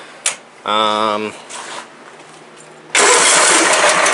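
A truck engine, due for replacement, cranks and then catches, settling into a loud, rough steady run. A voice is heard briefly before it starts.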